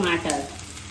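Onion and tomato fry in a pan for a rice flour pudla, a short burst of hissing sizzle with stirring that settles slightly.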